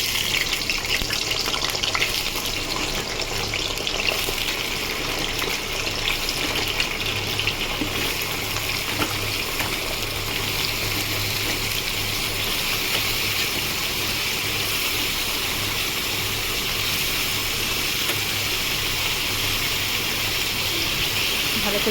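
Pointed gourd and potato pieces fry in hot oil in a pan over a high gas flame, giving a steady, continuous sizzling hiss throughout, with faint talk at times.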